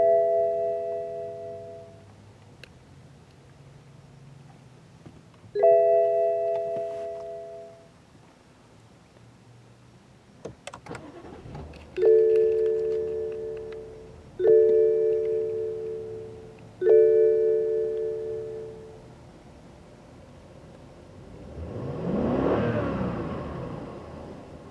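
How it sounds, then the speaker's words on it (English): A 2014–2015 BMW 7 Series sounds a string of soft, separate electronic chimes, then its engine fires and revs in a single broad, rising burst near the end. "Push-button ignition is standard on all 7 Series models"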